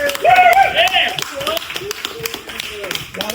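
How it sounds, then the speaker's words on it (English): A round of applause breaks out for a top sales producer at a team celebration. Brisk clapping rises under loud, excited voices and then thins out as people keep talking. "applause."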